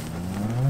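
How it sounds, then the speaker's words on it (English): A cow moos once, a low drawn-out call that rises in pitch and grows louder toward the end, close by on a farm. "Moo indeed."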